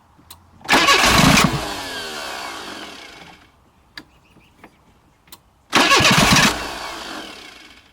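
An abandoned Renault car engine cranks and catches twice, each start bursting into a loud rev that slowly dies down, with a few faint clicks and knocks in the quiet gap between.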